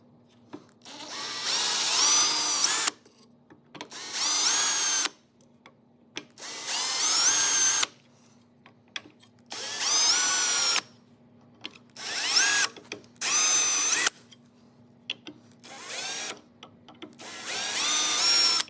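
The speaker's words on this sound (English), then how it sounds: "So I'm gonna go ahead and drill out these 4 corners here." A power drill whines in repeated bursts of a few seconds each, drilling out four corners on a car, with short pauses between, loud and close, biting into material.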